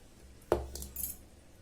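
A metal spoon knocks once against a pot while saved milk cream goes into a chickpea curry, a single close clink followed by faint scraping, quiet and with no talk.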